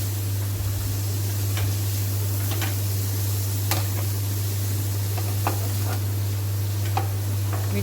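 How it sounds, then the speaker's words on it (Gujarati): Carrot and capsicum sautéing in a pan, a steady soft sizzle with occasional sharp ticks and clicks of stirring over a constant low electrical hum. "ગાજર અને કેપ્સિકમ એડ કરી દઈશું। ટામેટાં આપણે છેલ્લે એડ કરીશું। થોડુંક સાંતળી લઈશું આપણે બરાબર।"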